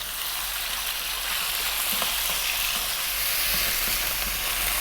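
Small pieces of chicken breast fry on high heat in a pan, giving a dense, continuous close-up sizzle with faint stirring knocks underneath.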